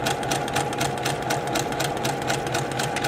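A sewing machine runs steadily, stitching a fabric seam right to the edge, with a fast, even mechanical whir close by and no pauses.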